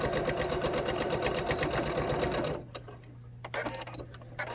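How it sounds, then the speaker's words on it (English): Sewing machine double stitching a cloth face mask, a fast steady rattling whir up close that runs for a couple of seconds and then stops, leaving a low hum and light handling clicks. "you can go back over and double stitch your stitch"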